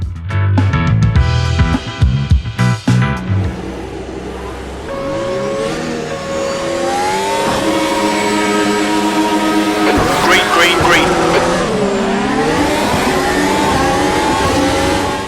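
Race cars in the Automobilista 2 sim racing game launch off the grid at Kyalami and accelerate hard, engines revving up through the gears in a loud sustained roar, with tire noise and other cars close by.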